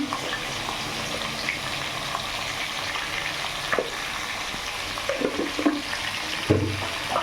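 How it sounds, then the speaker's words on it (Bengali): Potato pieces fry in oil in a kadai with turmeric, a steady broadband sizzle running throughout with a few scraping stirs and clatters near the end; no one talks. "আলুগুলো ভেজে নিচ্ছি একটু হলুদ দিয়ে দেবো"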